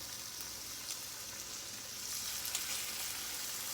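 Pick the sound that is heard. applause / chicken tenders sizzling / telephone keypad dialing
chicken tenders sizzling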